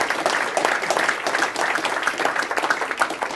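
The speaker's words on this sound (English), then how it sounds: "give this guy a round of applause" A hypnosis stage show audience in Boston breaks into dense, continuous applause, loud and close, with no talking over it.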